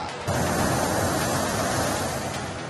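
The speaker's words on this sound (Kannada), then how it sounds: "ಒಂದು ಕಡೆ ವಿಶಾಲವಾದ ಸಮುದ್ರ, ರಣ ರಕ್ಕಸ ಅಲೆಗಳು" Rough monsoon sea waves on the coast at Karwar, a steady, loud broadband roar of surf and wind with no pauses and no voices.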